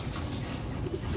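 A low, throaty coo of rare Chapra (Chapray) fancy pigeons rolls on steadily, close and moderately loud, from a rooftop loft in Sialkot.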